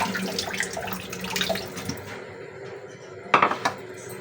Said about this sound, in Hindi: हम थोड़ी देर इनको वॉश करेंगे ताकि कुछ जो भी पानी वानी है, वो कचरा मचरा वो निकल जाए।